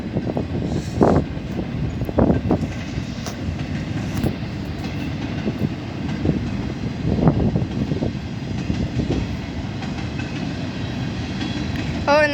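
Freight wagons rumble steadily over a crossing in Folkston, Georgia, with recurring clanks and rattles from the passing cars over a long, loud stretch.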